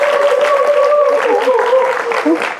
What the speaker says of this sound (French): Elle s'appelle Naomi Soumanou, sous vos applaudissements.